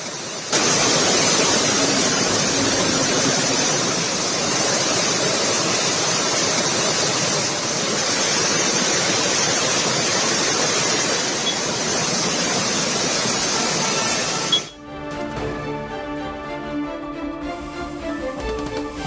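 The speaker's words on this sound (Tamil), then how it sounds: "தென்காசி மாவட்டம் குற்றால அருவிகளில் சீரான நீர்வரத்து." Water pours down the Courtallam waterfalls in Tenkasi district as a loud, continuous broadband rush, steady and close for most of the stretch before cutting off abruptly into tonal music near the end.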